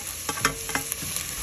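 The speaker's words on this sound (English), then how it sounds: "I'm putting 3 cloves of garlic in" Garlic cloves frying in a pot of sautéing vegetables for soup, with a close, soft sizzle and a few light clicks of stirring.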